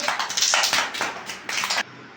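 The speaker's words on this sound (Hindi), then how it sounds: "समस्त ताली दियो" Young children at an ICDS anganwadi centre in Ganjam clap their hands together after a number game, a dense run of bursts of applause that fades and then stops abruptly near the end.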